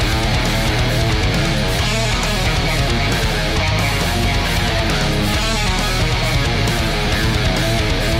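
An electric guitar fitted with 8515 pickups plays through a PRS amp, a loud, dense, distorted rock passage with a driving low end, continuous and steady for the whole stretch.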